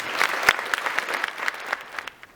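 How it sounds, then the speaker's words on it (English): A small audience at a school assembly claps for a speaker, a moderate patter of hands with a few sharper, closer claps standing out before the applause thins toward the end. "So at this time, I'd like to give a round of applause for Mr. Kelly Taylor."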